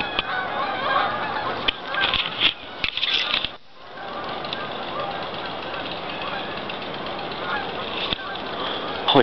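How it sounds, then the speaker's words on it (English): A large flock of geese honks constantly in the distance, a dense chattering din with some rustling and handling noise up close. "There's so many freaking geese."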